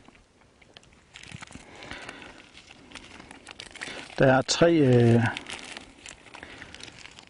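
A small plastic bag from a first aid kit crinkles close by, with a sharp burst of rustling partway through while someone speaks over it.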